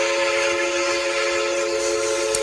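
A sustained, tonal whistle-like sound holds steady and loud throughout, like a Thomas the Tank Engine toy train's horn or motor, with no talking.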